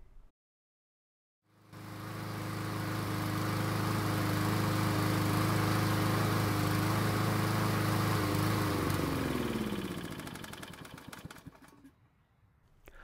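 Small gasoline lawn mower engine running near the bottom of its fuel tank: after a brief silence it starts and drones steadily and loudly at close range, then falters, drops in pitch and dies out as the fuel runs dry.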